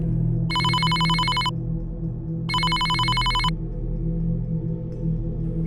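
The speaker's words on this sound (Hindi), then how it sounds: "तभी राघव के फोन की रिंगटोन बजी।" A phone ringtone trills loudly in two bursts about a second each, separated by a pause, over a low steady background hum.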